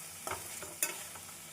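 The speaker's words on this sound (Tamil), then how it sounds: "நாம் தக்காளி சேர்த்து நன்றாக வெங்காயத்துடன் வதக்க வேண்டும்" Onions and tomatoes sauté with soft sizzling in a pan, with a couple of sharper stirring scrapes, close and fairly quiet, no voices.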